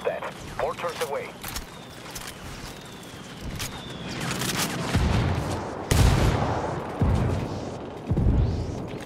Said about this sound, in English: Roger that. Mortars away.